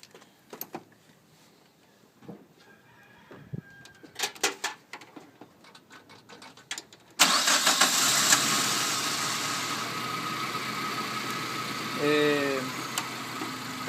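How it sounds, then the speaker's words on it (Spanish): A Suzuki Vitara's engine catches suddenly after a run of scattered clicks and handling noises, then settles into a steady, close idle. A brief whine rises over the running engine near the end. "vamos a encender el vehículo"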